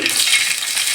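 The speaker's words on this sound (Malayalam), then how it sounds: "കടുക് പൊട്ടി" Mustard seeds spluttering in hot coconut oil for a Kerala pineapple and sesame curry: a dense, steady crackling sizzle, close and loud, lasting about a second with no voices.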